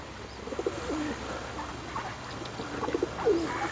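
Pigeons cooing by a pond in Reddish Vale, soft low coos repeating in short bursts, moderately close over quiet outdoor ambience.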